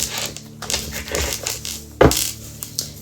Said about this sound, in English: Deck does not want to shuffle.